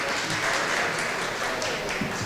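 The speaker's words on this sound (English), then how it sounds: "Can we please have a round of applause?" An audience at an education event claps together in a steady, fairly loud burst of applause, brief and unbroken, with no voices standing out.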